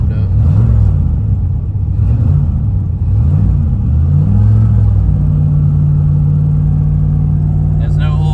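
A carbureted car engine idling while warming up, a loud close low rumble with uneven surges early on that settles into a steady drone, with someone talking over it.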